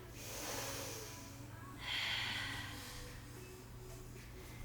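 Slow, full breaths during a foam roller stretch, two airy rising-and-falling exhales with the second stronger, heard close over a steady low room hum.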